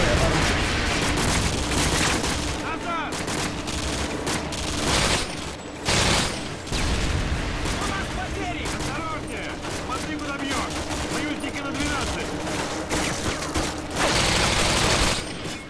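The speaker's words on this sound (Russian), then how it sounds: "Надо уходить, взрывы привлекут внимание." Explosions and dense automatic gunfire from the video game Call of Duty Modern Warfare 2 keep up a constant loud barrage, with heavy booms and brief gaps, while voices speak over the combat.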